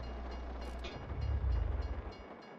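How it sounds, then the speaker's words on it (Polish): A train passes in Farming Simulator 19, a low rumbling roll that swells with rhythmic pulsing of wheels over the rails before easing off, heard alone at moderate volume. "o, akurat pociąg jedzie,"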